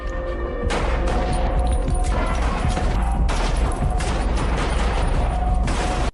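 Gunfire from an action scene in the 2018 film Hotel Mumbai, a loud, dense stretch of shots and impacts with mechanical clatter layered over a low rumbling backdrop, running almost without pause.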